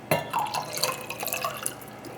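Apple cider vinegar is poured into a container of mop sauce made with apple juice, giving close, soft splashes and drips that trail off over about two seconds.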